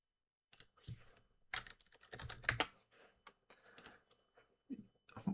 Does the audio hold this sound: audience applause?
no